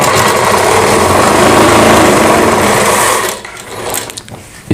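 A sewing machine runs in one steady, loud burst while stitching a strip for a kanchli blouse, then stops, leaving a few quieter handling sounds.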